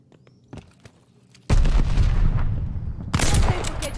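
MP40 submachine gun fire in the multiplayer shooter Call of Duty: Vanguard: after a quiet start with a few faint pops, two loud sustained bursts of rapid, booming gunfire erupt close by.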